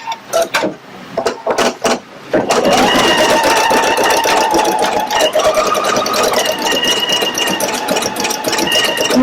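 A Pfaff Creative Icon 2 embroidery machine starts with a few quick mechanical thumps, then settles into loud, continuous, rapid stitching with a steady whirring hum close by.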